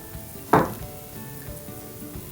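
Hot oil and ghee are poured into ragi flour for ragi mint pakoda. There is one sudden loud sizzling hiss that fades quickly over a quiet low background, with a second burst starting at the end.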